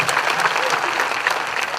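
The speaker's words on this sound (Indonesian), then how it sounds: "Beri tepuk tangan untuk Pak Pendeta." An audience at an outdoor Easter celebration at Monas applauds the pastor, a brief, even burst of dense clapping from many hands.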